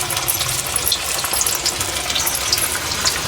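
Masala vadas frying in oil over a low flame, a dense continuous crackling sizzle with tiny bubbling pops, steady and close throughout with no talking.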